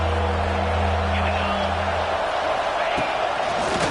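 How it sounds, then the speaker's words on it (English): Dense roar of a stadium crowd cheering at a college football game with the Volunteers on offense, loud and continuous, swelling with scattered shouts. "This crowd knows when to bring it."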